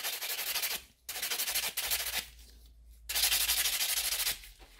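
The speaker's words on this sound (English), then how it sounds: "So if I'm filing really quick" Rapid back-and-forth filing of a gel nail extension with a nail buffer, loud rasping strokes in bursts separated by brief pauses, close up with no talking.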